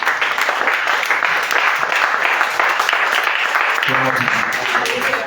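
A church congregation applauds together, a dense sustained wash of clapping that fills the whole stretch, with some voices rising underneath toward the end.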